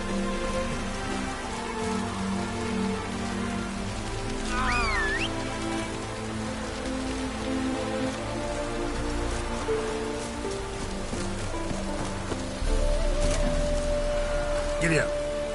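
Rain in The Witcher 3: Wild Hunt, a steady hiss of drops on surfaces running throughout, with game sounds, a brief whistling tone and a low rumble layered over it near the end.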